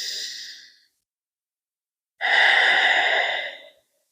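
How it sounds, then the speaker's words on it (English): Two slow, deep breaths during a yoga session, a soft exhale fading out, then after a silent pause a long, loud, close inhale or exhale lasting over a second. "Let's take 5 more of your most intentional breaths."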